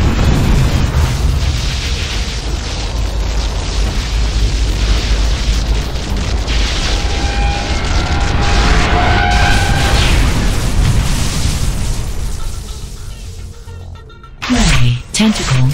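A blue power core blows up in Unreal Tournament 3 Warfare mode, a loud sustained booming roar with rumbling debris and tonal game effects, fading near the end before a brief burst of other game sounds.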